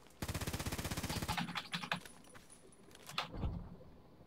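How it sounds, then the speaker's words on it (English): X95-R assault rifle in the Contract Wars video game, a fast burst of rapid automatic fire up front followed by a few scattered shots and clattering game sounds. "This might be a rush-friendly assault rifle with the high rate of fire and damage"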